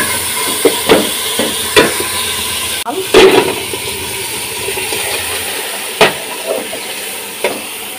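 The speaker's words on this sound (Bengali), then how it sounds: "তো এটা এখন ভাজা ভাজা করে নেব।" Rice and lentils for khichuri fry with a low continuous sizzle while a spoon knocks and scrapes against the pot in irregular clacks, loud and close, with no talk.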